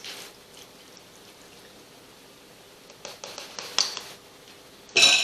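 Teriyaki marinade poured over strips of beef jerky: a soft, quiet liquid splash and trickle, with a few sharper wet spatters near the end.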